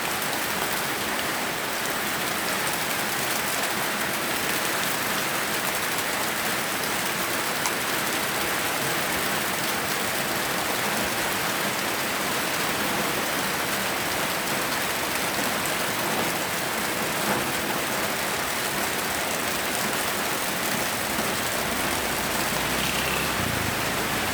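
Heavy rain pours down over a garden, a dense, constant hiss of drops striking surfaces that stays loud and unbroken from start to finish, with no voices heard.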